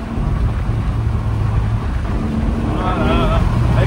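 Porsche 911 Spirit 70 combustion engine driving through forest, a deep, steady rumbling drone heard from inside the car, rising slightly toward the end, with someone talking over it.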